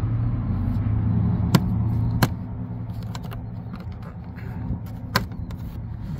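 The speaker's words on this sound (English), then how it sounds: "This cover is being held by a bunch of black plastic tabs all around, and you just have to pop it off." Black plastic trim cover on a Nissan Juke being pried off its plastic tabs, three or four sharp clicks spread over a few seconds against a low background hum, close and distinct, no talk.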